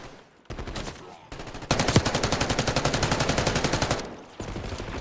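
Video game gunfire rings out as rapid automatic bursts, a short burst then a longer sustained rattling stream of loud, evenly spaced shots before it cuts off.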